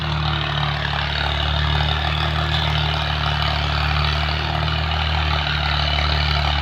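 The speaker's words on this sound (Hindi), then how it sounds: "मियाँ खान साहब ट्रैक्टर चला रहे हैं" Tractor engine working a farm field on a cold morning, a loud, steady low diesel throb and drone close by, running continuously without talk.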